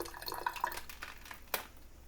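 Tap water runs and splashes softly nearby while tomatoes are washed, with small irregular drips and clinks and one brief louder splash.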